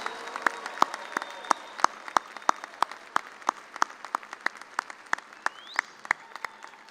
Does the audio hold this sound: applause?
yes